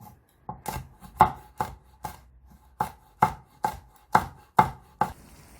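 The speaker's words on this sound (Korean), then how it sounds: "청양고추는 쫑쫑 썰어줍니다" A knife chops Cheongyang chili peppers on a cutting board in about a dozen crisp, evenly spaced strikes, close and clear with nothing else heard.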